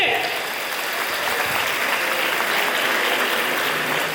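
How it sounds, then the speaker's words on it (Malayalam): Audience clapping at a community gathering, a dense steady wash of many hands applauding continuously at close to moderate distance. "കൈയടിച്ചേ"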